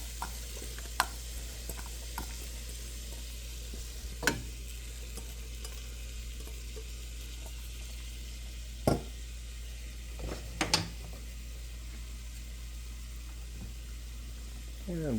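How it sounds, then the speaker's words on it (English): Onions and garlic frying in heated olive oil in a pot, a quiet sizzle under a low hum with a few sharp clinks and scrapes of stirring. "I'm just going to stir those around in the pot"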